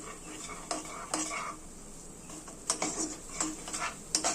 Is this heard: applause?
no